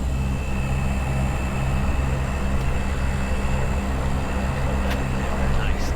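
The twin turboprop engines of a historic Convair 580 run at high speed, a steady loud drone with low harmonic hum and high whine, with no break throughout.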